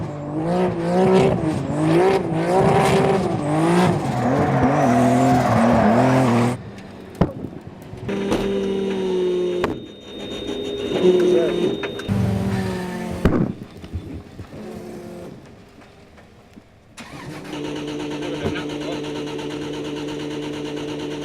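The Driftworks competition car drifting, its engine revving hard in rising and falling bursts while the tires squeal, broken by short pauses and a steadier engine drone near the end, with crowd or commentary voices faintly behind it.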